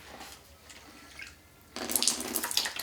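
Water is poured from a bottle into a condom: a faint trickle first, then a louder, splashing gush of running water near the end.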